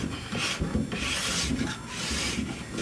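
Close, continuous rasping scrape as a tool shaves plastic base and the upper steel edge of a ski during tuning, in repeated strokes with short pauses between them.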